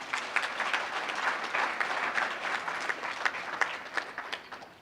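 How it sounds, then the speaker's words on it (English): A conference audience gives sustained applause with sharp individual claps standing out, continuous for about five seconds, with a faint crowd murmur beneath. "A round of applause."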